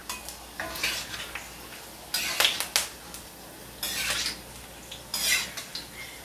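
Fish with ginger frying in a very hot wok, with a spatula clattering and scraping in several sharp bursts over a low background sizzle.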